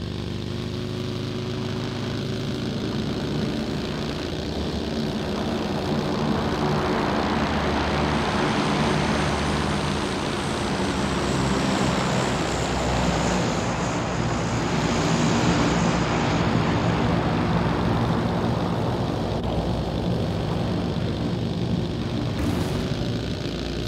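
A propeller airplane engine drones steadily in PUBG, a loud continuous hum with layered harmonics that swells slightly and fades, with no talking.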